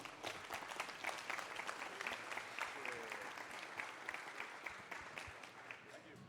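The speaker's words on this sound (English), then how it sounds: "Round of applause for our judges," An audience at a Catch tournament grand final event applauds the judges, with steady, dense clapping from a crowd at moderate distance, lasting several seconds.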